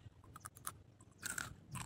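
Crunchy fried anchovies being chewed up close, a quiet series of brittle crackling bites with short bursts and pauses, no talking.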